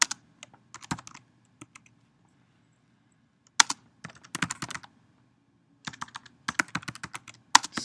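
A password is typed on a computer keyboard, heard as crisp close key clicks in short bursts separated by brief quiet pauses, with no talking.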